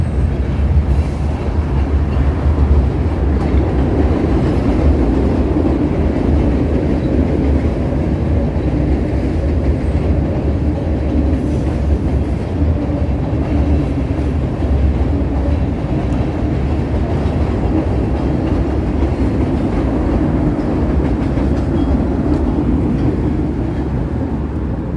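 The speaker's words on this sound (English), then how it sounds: "Here we got a Brown Line L train coming around the bend here." A Chicago Brown Line L train rounds a bend through city streets, giving a loud continuous rumble and rattle of wheels on elevated track that persists steadily throughout.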